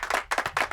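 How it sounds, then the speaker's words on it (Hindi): A few students clap their hands in a classroom, a short burst of about four quick, close claps. "तालियां बजाओ।"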